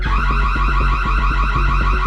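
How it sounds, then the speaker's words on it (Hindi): A loud, steady electronic alarm rings continuously, with a repeating pulsed pattern and no voices during it. "अलार्म! ये क्या है? अलार्म?"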